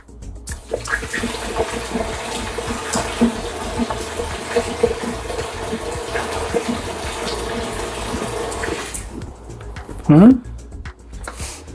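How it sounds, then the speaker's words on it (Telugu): Bore water is poured into a turtle tank in a continuous splashing gush that runs for about nine seconds, then stops, followed by a brief voice. "ఇదిగోండి ఇప్పుడు కొన్ని బోర్ వాటర్ పోస్తున్నా"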